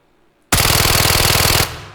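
A gun fires on the shooting range in Incursion Red River: one loud, close automatic burst of rapid, evenly spaced shots lasting about a second, after silence, then a short fading tail.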